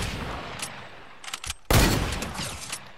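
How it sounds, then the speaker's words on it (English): Gunfire in the Fortnite video game during an arena duo match: scattered shots early, then a loud sustained burst of rapid firing that carries on to the end. "How many people are shooting at me?"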